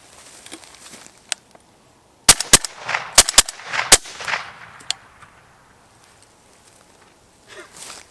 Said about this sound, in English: let's go ahead and send 5 rounds into the sand over here, get you guys some good audio